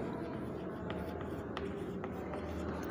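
Marker or chalk strokes on a board during a physics lecture, a scratchy continuous writing sound under a man's speech throughout.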